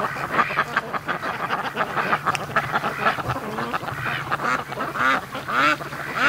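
Ducks quack repeatedly on a lake, a busy overlapping chorus of calls with a few honking notes, fairly close and loud with no talk over them.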